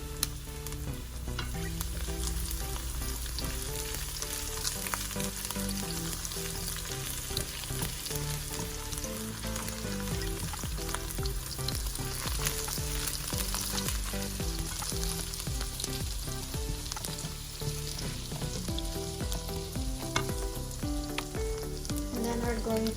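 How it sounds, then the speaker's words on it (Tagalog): Garlic sautéing in a tablespoon of hot coconut oil for Filipino pininyahang manok, a steady dense sizzle and crackle with stirring scrapes, loud and close, running unbroken with no talk. "So let's start saute our garlic, and I want a lot of garlic."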